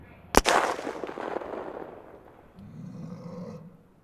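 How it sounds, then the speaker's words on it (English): One sharp, loud rifle crack near the start, followed by a rolling echo that fades and then a low rumble, with no talking. "The silence is broken by a loud crack as his rifle goes off"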